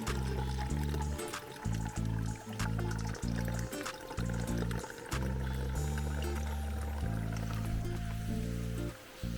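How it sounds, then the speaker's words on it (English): Water pours out of a new backpacking water filter on its first use, a close, gurgling stream that stops and restarts in several short bursts. "the filter is first time use, we're just gonna dump that out"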